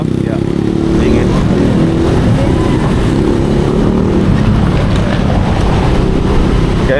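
A car rolls past on a rough, potholed dirt road, heard from a Honda Giorno 125 scooter: a steady, loud low rumble of engine and road noise that lasts throughout, with a rider speaking over it.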